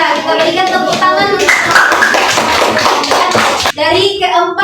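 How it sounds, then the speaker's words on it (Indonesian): Classroom of students clapping together for a presenting group during a school lesson, steady close hand claps with children chattering and voices mixed in throughout. "kita berikan tepuk tangan"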